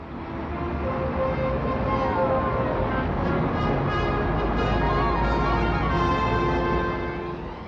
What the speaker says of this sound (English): It's one of the world's busiest thoroughfares, Oxford Street, London.